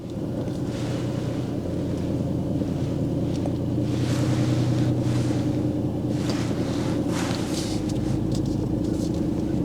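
A car engine labouring at low revs during a first driving lesson, nearly stalling as the clutch comes up too high, a steady rough drone with a shuddering pulse under wind and road noise, no speech.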